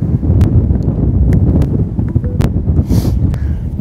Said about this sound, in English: For an easterly wind, it's quite cold.